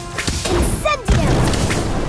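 The Incendio fire spell is cast in the video game Harry Potter: Magic Awakened: a short rising swish and then a heavy whooshing burst, with game effects and voices around it.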